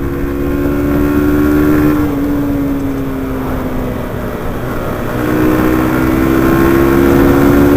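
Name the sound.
Yamaha YBR 125 motorcycle engine at high revs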